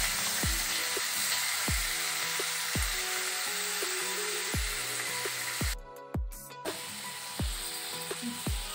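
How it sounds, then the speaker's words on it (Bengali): Prawns fry in hot oil in a home kitchen with a steady bright sizzle, while a series of sharp, evenly spaced clicks from a mechanism sound roughly every half second over it. "তেলটা গরম হয়ে গেছে, এবার আমি মাছগুলো একটু ভেজে নেব।"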